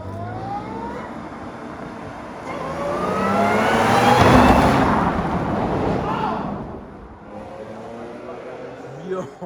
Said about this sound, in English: This thing gonna sound way more impressive than Chad car.